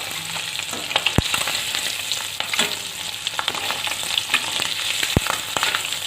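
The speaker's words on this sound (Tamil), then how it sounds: "இந்த எண்ணெயிலே பாருங்கள் உங்களுக்கு இது நல்லா பொறிஞ்சிருது" An egg frying in oil in a pan gives a loud, close, continuous sizzle, broken by a couple of sharp clicks of a utensil against the pan.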